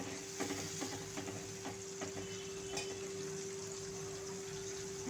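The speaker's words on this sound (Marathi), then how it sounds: "आणि हे पहा मिश्रणाला उकळी पण आलेली आहे." A capsicum curry mixture bubbles and sizzles in a pan on the stove, a steady soft simmer with small pops and occasional stirring scrapes, heard close without any talking.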